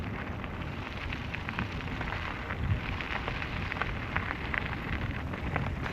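Steady rain falls on a stormy day, a dense, even hiss of drops with occasional louder patters, continuous and fairly quiet with no voices.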